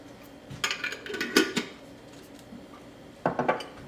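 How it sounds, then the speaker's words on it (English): Cutlery clinks and scrapes against a pot while elderberry syrup is stirred, a few short metallic knocks clustered near the start, a pause, then another brief burst of clatter, with no talking. "And I'm just going to stir it in here."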